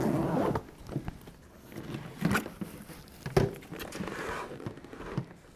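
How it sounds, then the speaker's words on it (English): Zippers rasp open on the case of a LUCAS 3 chest compression device in several short, scratchy pulls with pauses between, close by and with no talking. "The case is opened by two red zippers."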